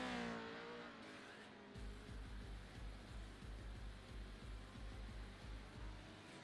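Legion-powered number 36 race car at a track in Crandon, a far engine roaring steadily with a rhythmic pulsing drone as it runs past.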